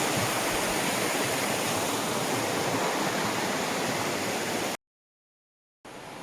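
Water cascades down beside a house in a steady, dense rushing roar, broken once by a brief cut to silence before the flow resumes.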